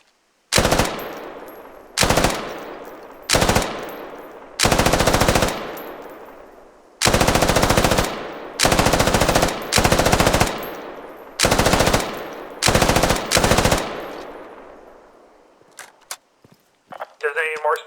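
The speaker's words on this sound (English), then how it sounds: "Automatic riflemen and machine gunners carry a machine gun like this to the field" Bursts of automatic machine gun fire from the military shooter Squad, about ten loud close-range volleys of varying length with short pauses between, no talking.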